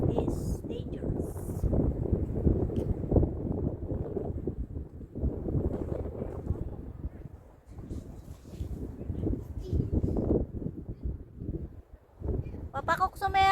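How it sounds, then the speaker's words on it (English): Strong wind buffets the microphone outdoors in gusty bursts of low roaring rumble that rise and fall, with brief lulls and a voice talking faintly in places. "it's so windy"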